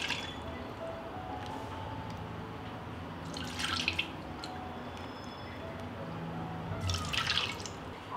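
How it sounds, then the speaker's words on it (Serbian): Freshly pressed sour cherry juice strains through a sieve into a second pot, giving a steady close trickle and patter of liquid with a couple of brief louder splashy bursts, no voices. "I ovako ćemo u drugu šerpu kroz sito procediti dodatno."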